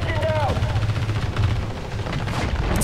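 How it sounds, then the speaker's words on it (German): Gunfire in a horror video game, a dense burst of shots over a busy game soundscape, with voices talking over much of it. "Jetzt knallen die den auch noch von unten ab."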